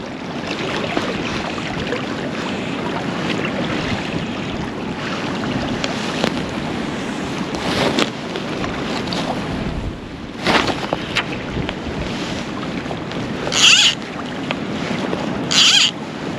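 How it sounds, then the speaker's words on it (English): Gusty wind buffets the microphone over a flowing river, the River Findhorn, with rumbling bursts and a few sharp clicks near the end. "yes, it's windy"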